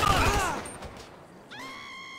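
Enemy gunfire in GTA 5: a quick burst of shots at the start that fades within half a second, followed by a quieter sustained tone.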